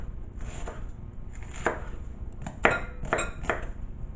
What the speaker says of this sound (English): Now, the onion, which is for later, but I'm gonna chop it up anyway